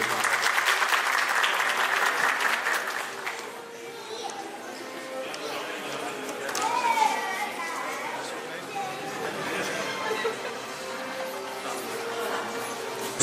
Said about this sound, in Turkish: Hakan Temiz Türk hocamızı alkışlarınızla sahneye davet ediyorum